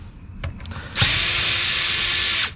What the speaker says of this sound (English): I'm just taking out these two 10mm bolts right here